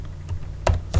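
Keys on a computer keyboard clack as assembly code is typed, a few quick close strokes within about a second, the last two loudest.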